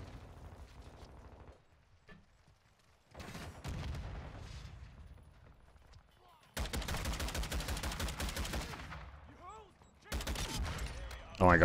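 Bursts of rapid automatic gunfire and loud shots in the video game Modern Warfare 2, coming in several separate volleys with quieter gaps between, with someone talking over parts of it.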